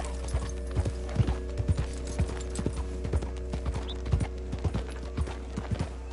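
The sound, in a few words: horse hooves clip-clopping in video game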